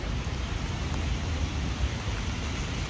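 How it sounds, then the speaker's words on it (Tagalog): Steady, dense hiss of heavy rain in Prague pours continuously without pause, loud and close, with no voices. "Lakas pa rin ng ulan."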